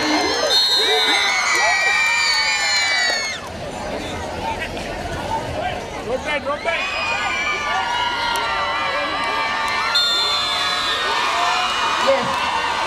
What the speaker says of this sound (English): Come on, students, cheer them up.